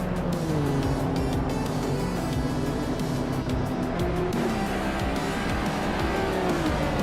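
Race cars lapping the tight, twisty Interlagos circuit in a racing video game, engines droning steadily with shifting pitch, tire squeal and passing cars, loud and continuous throughout with no talk.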